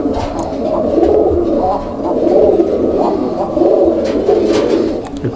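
Pigeons at a bird market coo in low, throaty, rolling phrases that rise and fall repeatedly, close by and fairly loud, with faint background noise.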